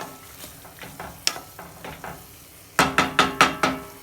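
A vegan tofu scramble sizzles softly in a pan while a utensil scrapes and taps against it. The taps are sparse at first, then come as a quick run of sharper knocks near the end.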